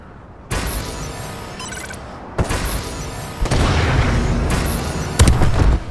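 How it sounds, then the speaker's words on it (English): Missile strike explosions in the video game Call of Duty: Advanced Warfare: several heavy booms and blasts in quick succession, with rumbling debris between them and a sharp crack near the end. "Friendly missile strikes incoming."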